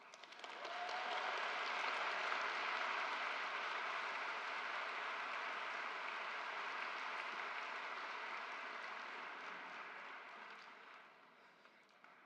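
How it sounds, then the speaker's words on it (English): The audience at the Lindsay Thurber Comprehensive High School graduation ceremony claps in a long, even wash of applause heard from a distance. It holds steady for about ten seconds, then tapers off. "You can clap now."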